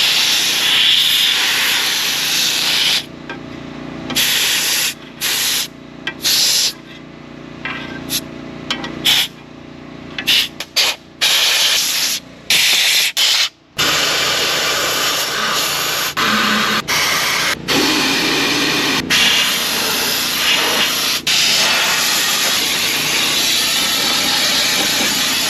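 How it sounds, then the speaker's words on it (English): Undercoating is sprayed onto the metal gas door of a Chevy truck, a loud continuous hissing spray that starts and stops in repeated bursts, close to the microphone with no talking. "I'm gonna spray this piece"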